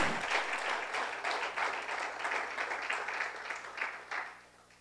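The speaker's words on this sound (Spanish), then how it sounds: "Usted le puede dar un aplauso al Señor en esta hora" Church congregation applauding together in sustained, fairly even clapping that fills the space for several seconds before tapering off at the end, with no speech over it.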